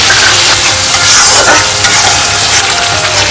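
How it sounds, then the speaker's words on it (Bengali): Tomato paste hits fried onions in a pan for a Bengali katla fish kalia, producing a loud, dense, continuous hissing sizzle close up with faint scraping. No voices. "পেঁয়াজ ভাজা হয়ে গেছে আমি দিয়ে দেবো এখানে দুটো টমেটো পেস্ট করে রেখেছি টমেটো পেস্টটা দিয়ে দেবো"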